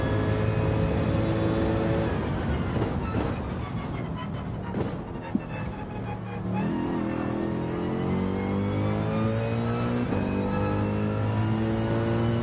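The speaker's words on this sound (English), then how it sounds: "that car sounds cool. It's like a F1 car." An F1-style race car engine in Gran Turismo 7 revs steadily, its pitch rising and falling through gear shifts, loud and continuous with a whirring mechanical tone throughout.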